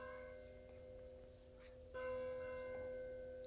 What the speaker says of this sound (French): Je laisse, on a les, cloches. C'est sympa.